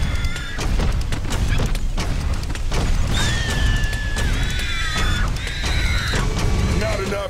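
Rapid gunfire and booming blasts from the Serious Sam shooter game, dense and loud throughout, with continuous weapon bursts layered over rising and falling synthetic tones and rumbling effects.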